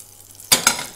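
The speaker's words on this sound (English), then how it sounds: "When it's nice and melted, you know it's time to get your eggs in the pan." Eggs poured into a hot non-stick pan with melted butter give two quick bursts of sizzling frying, close and fairly loud, each fading into a steady hiss.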